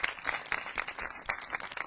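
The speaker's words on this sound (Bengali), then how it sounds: "একটু জোরে তো তালি দিন। Clap for him." A crowd claps for a kirtan singer at an evening Hari-katha gathering in West Bengal, a short burst of lively, fairly even claps heard close and alone.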